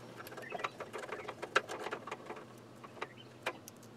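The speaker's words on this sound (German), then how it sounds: "Schrauben wir jetzt noch die Schrauben rein." A screwdriver drives screws into a PC case during a gaming PC build, giving faint, irregular metallic clicks and ratcheting ticks close by in a quiet room.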